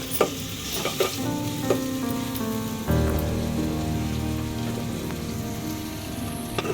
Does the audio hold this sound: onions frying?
yes